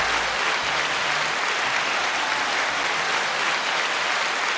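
Crowd applause at a podcast headquarters, a dense, even roar of clapping that holds steady and loud for several seconds with no pauses.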